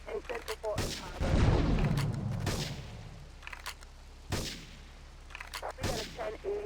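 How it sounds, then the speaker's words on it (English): Gunfire and explosions in the video game GTA 3, a few sharp loud bursts and a rumbling blast over a background of game sound, with a voice speaking in between. "Investigate reports of gunfire and explosions."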